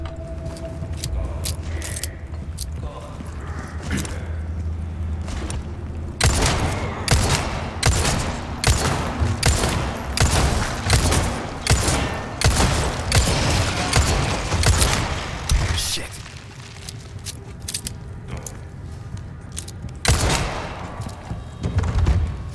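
Handgun fire in Resident Evil 4 Remake, a long run of loud sharp shots fired in quick succession through the middle, with scattered shots before and after amid game ambience.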